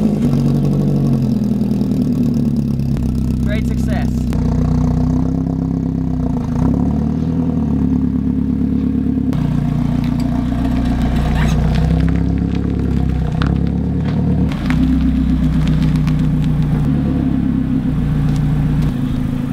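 Car engine running close by with a steady mid-pitched hum and clatter, a couple of slight rises in revs, continuous and fairly loud with no talking.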